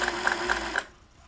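Singer 401a vintage sewing machine running a straight stitch: a brief, close, steady mechanical whir with a quick pulsing rhythm that stops after under a second.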